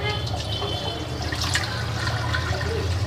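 Running tap water splashes steadily over food being washed for khichuri, a continuous close hiss and gurgle with light drips and no clear talk.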